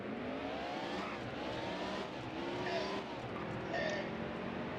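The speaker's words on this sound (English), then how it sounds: "I forgot how these F1 cars used to sound." An F1 race car in a NASCAR Dirt to Daytona video game, its loud high-revving engine screaming continuously with rising and falling pitch sweeps as it accelerates and shifts, filling the whole stretch with no talk.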